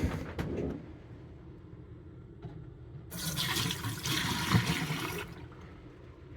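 RV antifreeze pours down a drain in a beach shack during a winter shutdown, a quiet trickle followed by a louder gurgling rush of liquid for a couple of seconds, with no voices.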